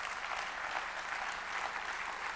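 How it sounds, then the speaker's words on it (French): A crowd applauding at a general assembly, a steady wash of many hands clapping at moderate distance and even in volume throughout. "je vous prie de l'applaudir bien fort"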